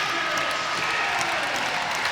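Ice hockey crowd at a Sheffield Steelers versus Belfast Giants EIHL game cheers and claps in the final seconds, a dense, continuous roar filling the arena without break.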